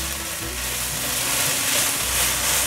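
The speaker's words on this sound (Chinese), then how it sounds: "快速翻炒，把番茄炒软" Tomatoes stir-fry in a wok for a tomato-based mild mapo tofu, making a steady, loud, close sizzle with a continuous hiss throughout.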